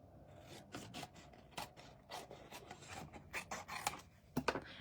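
Metal craft snips cutting through a stamped paper squirrel piece, giving a series of close, crisp rasping snips in an uneven rhythm that quickens toward the end.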